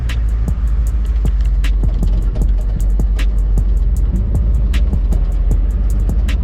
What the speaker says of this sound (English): we're driving. I love a manual